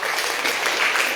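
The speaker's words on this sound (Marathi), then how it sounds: "या सगळ्यांसाठी एकदा टाळ्या व्हायला पाहिजे." Audience applause at a stage music program, a dense, even wash of clapping that fills the whole moment at steady loudness.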